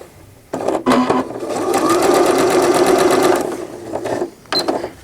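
A home sewing machine stitches knit fabric for a newborn gown with a quarter-inch seam: one long, steady run of fast, even needle rhythm, close and loud. Short bursts of stitching come before it and after it.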